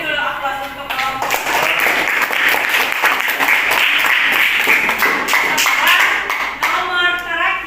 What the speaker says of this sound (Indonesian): beri dulu aplaus untuk kelompok